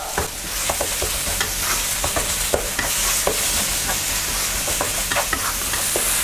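Minced pork stir-fried in a pan, a loud continuous sizzle broken by repeated scraping clicks of a spatula against the pan, with no talking.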